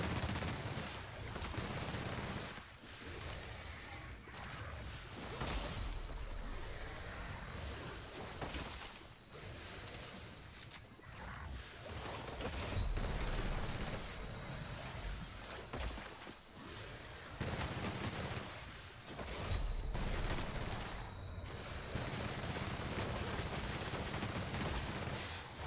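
Gunfire in The Outer Worlds video game rattles in repeated bursts and rapid volleys, loud and dense over nearly half a minute with brief lulls between firefights.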